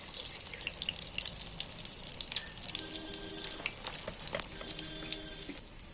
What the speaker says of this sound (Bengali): এখন পুরপুর পুরপুর করছে, ওই যে একটু আওয়াজটা বন্ধ হলে তারপর তুলবো, আর একটু লাল করে ভাজবো।